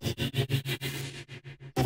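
A vocal synth preset from the Output Exhale plugin plays alone in a rapid series of short, breathy pulses, a stuttering rhythm that smears into a sustained stretch before choppy bursts return and end on a sharp hit.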